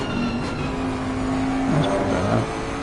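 Race cars circle a track in a PS5 racing game, a steady, loud engine drone with shifting revs and a rising whine as one car accelerates, continuous throughout without any talk.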